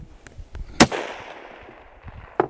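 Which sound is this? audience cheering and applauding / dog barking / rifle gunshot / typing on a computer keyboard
rifle gunshot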